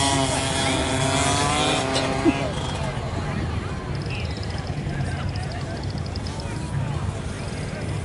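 Junior race cars pull away from the start at a speedway, a broad continuous engine roar filling the scene while a commentator talks over it throughout.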